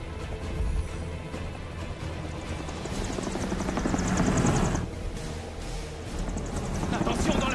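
A helicopter battles strong wind in an action film scene, its steady broad rotor roar filling the clip with gusty surges and a swell near the middle, while voices speak over it.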